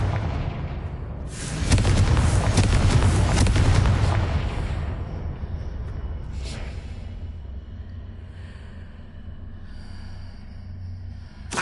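A Confringo blasting spell goes off in Hogwarts Legacy as a loud, booming explosion that surges in at about a second and a half, rumbles for a few seconds, then trails into a long fading rumble with a faint later crack.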